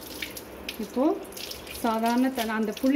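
Tap water runs steadily into a sink while a cleaned copper vessel is rinsed, a fairly close splashing stream with a person talking over it.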